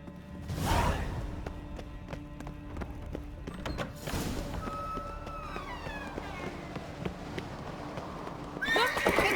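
Horses in The Witcher 3 neigh loudly, with a sharp whinny near the start and another midway, over the clip-clop of galloping hooves and rushing movement, ending in a louder surge of commotion.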